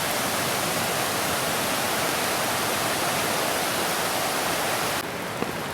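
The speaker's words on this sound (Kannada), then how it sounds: "ವಾಟರ್ ಪಂಪಿಂದ ನೀರು ಹರ್ಕೊಂಬರೋ ಸೌಂಡ್ ಕೇಳಿಸ್ತಾ ಇದೆ" Water gushing from a water pump beside a river near Irpu Falls in Coorg, Kodagu: a loud, continuous hissing roar that stays even and dips slightly near the end.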